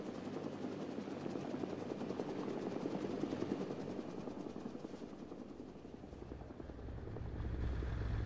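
A helicopter lands in the military video game Arma 3, its loud, steady rotor thrum and engine roar running unbroken throughout with a deeper rumble building near the end.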